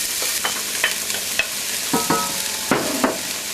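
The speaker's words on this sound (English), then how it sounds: "I'm going to add our 1 cup of the red onion and the 1 cup of the celery that's been chopped up" Chopped red onion and celery sautéing in butter in a hot skillet, a steady close sizzle broken by repeated scraping stirs and clinks of a spoon against the pan, with no talking.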